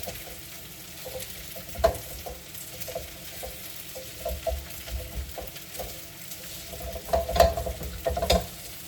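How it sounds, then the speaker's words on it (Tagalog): Creamy gnocchi being stirred in a frying pan, a soft steady sizzle with scraping stir strokes and a few louder utensil knocks against the pan, close by and with no talking. "Kasi kailangan pa mikos-mikos yan ng mga 30 seconds bago niya ilagay ang ibang sahog."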